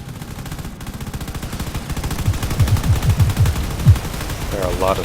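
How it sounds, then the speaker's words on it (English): Rapid gunfire in the video game Drone Wars, set in desert warfare, rattles in quick repeated bursts that build in loudness over a low rumbling background, with some voice-like sound mixed in. "There are a lot of shots coming in."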